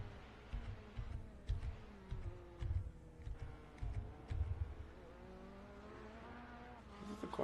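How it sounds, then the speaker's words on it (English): Corvette race car in the iRacing simulator, a smooth engine note rising and falling through gear shifts and revs, with faint tire noise and steady, moderately loud playback throughout. "This car sounds smooth."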